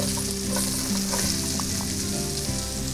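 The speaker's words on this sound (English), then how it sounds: "let's go ahead and throw in our half of a chopped sweet onion" Half a chopped sweet onion sizzles steadily in melted butter in a pan, a continuous close frying hiss with faint stirring clicks throughout and no talking.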